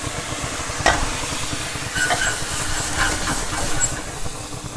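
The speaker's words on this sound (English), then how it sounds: "so now we'll add our wine, and we're going to reduce that down." Wine poured into a hot pan with chicken scallopini, cremini mushrooms, red peppers and capers, sizzling steadily while it reduces, with a few soft clinks of a utensil stirring and scraping the pan.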